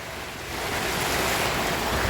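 Heavy rain driven by wind in Albay, a dense, steady roar of noise that swells slightly and holds without pause or voices.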